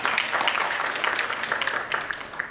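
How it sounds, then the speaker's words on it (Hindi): An audience applauding a student at a technology institute campus event, dense steady clapping from many hands, moderately loud and continuous throughout. "इनके लिए तालियां होनी चाहिए।"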